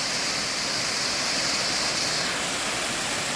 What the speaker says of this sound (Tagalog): Waterfalls, ang ganda kami.